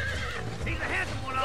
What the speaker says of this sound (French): Allez, ce sera notre premier cheval à capturer.